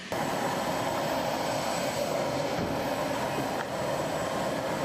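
A loud, steady roar of an ambulance airplane's engine at takeoff power fills the air, with no voices.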